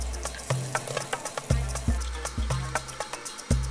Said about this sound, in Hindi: तेल गर्म हो गया है, अब इसमें डालेंगे 100 ग्राम रफली चॉप्ड अनियन।